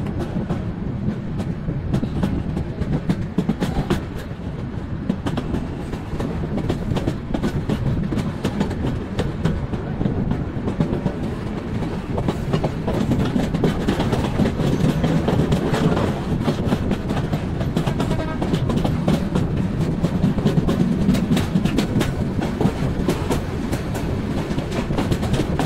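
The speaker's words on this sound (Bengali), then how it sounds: "৭টা ৪৬ ট্রেন ছেড়ে গেল কমলাপুর রেলওয়ে স্টেশন" The Mohanagar Provati passenger train from Dhaka's Kamalapur station toward Chattogram, heard from inside as a steady loud rumble with rhythmic clickety-clack of wheels over rail joints throughout, no voices.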